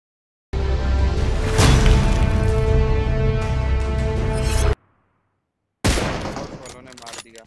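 Loud, sustained burst of automatic gunfire from a shooting video game, followed by a short gap and another quick volley that fades out.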